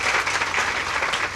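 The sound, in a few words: audience applause at inauguration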